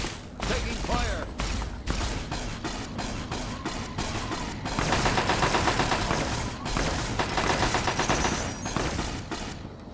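Dense video game gunfire in Fallout 3 or New Vegas, with rapid automatic bursts and fusillades rattling nearly nonstop for ten seconds, loud and close, with mechanical clatter between volleys.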